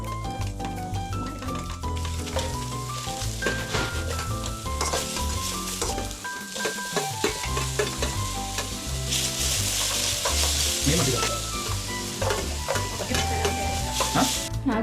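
Masala ingredients frying in butter in a pan for paneer butter masala, a steady close sizzle with stirring scrapes and clinks running throughout, loud and continuous with no talking.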